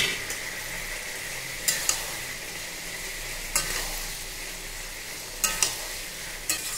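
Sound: stirring poppy seed paste into ridge gourd curry

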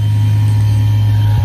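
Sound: truck doing maintenance on a fire hydrant

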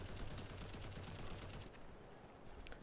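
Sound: gunfire in video game Modern Combat Versus

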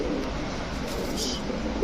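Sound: pigeons cooing

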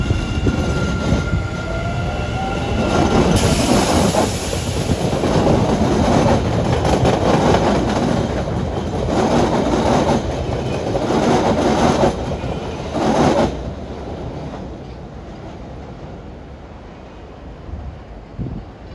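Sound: MBTA Orange Line subway train departing for Oak Grove

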